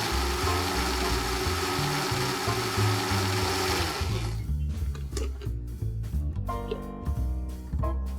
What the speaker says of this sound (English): I'm going to blend all this together into a smooth paste.